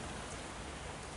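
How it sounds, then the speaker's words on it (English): Rain falls outside a tent on a late May afternoon, making a steady, dense hiss of drops on the canvas that stays even and fairly faint throughout, with no talking. "there's lots of rain falling"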